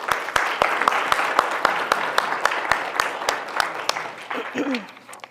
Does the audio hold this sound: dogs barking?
no